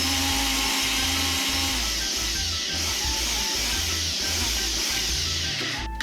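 Smoothie being mixed in a blender, a loud continuous motor whir with a steady churning buzz that runs evenly throughout and stops abruptly at the end.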